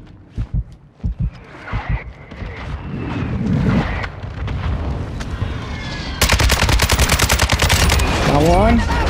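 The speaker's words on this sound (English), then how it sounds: "Mortar strike inbound now." Explosions from a mortar strike and bursts of gunfire in the video game Call of Duty: Modern Warfare II, with thumping blasts early on, then continuous rapid automatic fire, loud and close.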